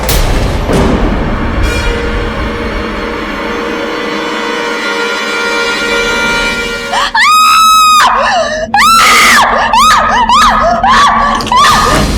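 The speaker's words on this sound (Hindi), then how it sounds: "आप चिल्ला क्यों रही हैं?" A woman screams in a series of loud, piercing, wavering shrieks that come in quick bursts, following a stretch of dense, rumbling noise.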